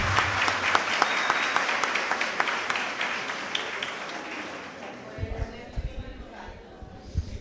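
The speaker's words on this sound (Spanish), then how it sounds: "un aplauso para el Señor" A church congregation claps for the Lord during a testimony, a brisk burst of applause that thins out and fades, leaving a few scattered claps and low voices at the end.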